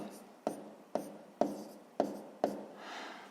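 Pen writing down numbers for a sixth-grade math exercise on paper: five sharp taps and scratching strokes at a steady rhythm, quiet and close, with no talking.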